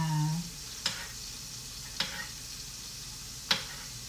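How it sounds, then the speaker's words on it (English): Mushrooms and onions cook in a pan for vegan tacos, giving a soft steady sizzle with three sharp utensil clicks spaced about a second apart, no voices. "Get ready to throw those in the pan with my onions, because I want those to cook down at the same time."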